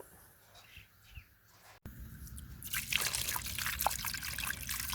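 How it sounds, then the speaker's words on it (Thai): Water trickles while salted mackerel is washed, a quiet start giving way to a louder, steady run of splashing and dripping with occasional bright drops. "ล้างปลาทูจ้า"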